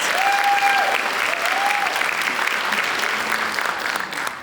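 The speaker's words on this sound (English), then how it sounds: "Let's give them a round of applause." A crowd at a Springfield charity event applauds a children's advocacy organisation, with loud sustained clapping that runs throughout and tapers slightly at the end; brief voices show faintly early on.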